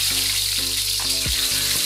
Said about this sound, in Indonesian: Goreng telur puyuh yang sudah dikupas tadi.